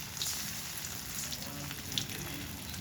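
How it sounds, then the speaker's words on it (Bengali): Eggplant beguni and potato chips sizzle together in hot oil, a soft, steady crackling fry with small pops scattered throughout and no voices. "আলু চিপসের সাথে বেগুনের বেগুনি ভাজা হয়ে যাচ্ছে"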